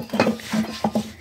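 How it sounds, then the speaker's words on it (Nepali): Blackened cooking pots and dishes are scrubbed and washed by hand, making a few quick, close clinks and scrapes of metal against metal in short irregular bursts. "यस्तो कालो सालो भाँडा माझ यस्तो अप्ठ्यारो भाँडा चाहिँ मलाई दिनुपर्छ क्या"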